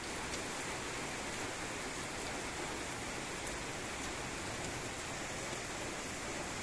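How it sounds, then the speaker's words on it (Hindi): Heavy rain pours down in a steady, dense hiss that fills the space evenly and never lets up, with no voices over it. "देखो कितनी ज्यादा बारिश हो रही है।"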